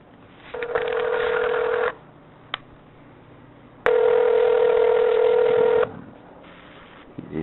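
Telephone call being placed: a sustained ringback tone sounds twice, long loud tones separated by a silent gap, heard clearly over a phone line.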